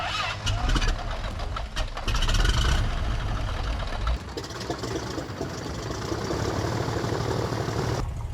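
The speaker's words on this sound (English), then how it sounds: "It fired right up, like literally half a turn" A light airplane's newly installed engine firing for the first time after a two-year project, with cranking that catches into a loud, rough running roar near the microphone, shifting pitch midway before settling into a steady drone.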